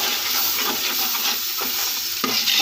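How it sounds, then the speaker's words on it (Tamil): Curd being stirred into fried tomato masala for chicken biryani, with a steady loud sizzle and hiss and soft scraping stir strokes, close by. "தயிர் சேர்த்துட்டு இப்போ நம்ம நல்லா கிளறி விட்டுறலாம்."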